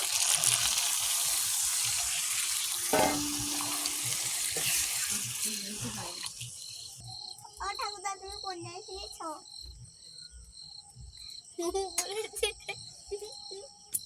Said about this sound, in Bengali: কষা হয়ে গেছে এই জলটা দেবো